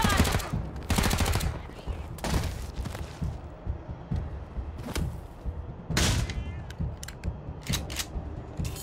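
Repeated bursts of automatic gunfire from a Wasteland 3 firefight in Colorado Springs, loud and close, coming in clusters over roughly nine seconds with short pauses between volleys and a faint voice underneath.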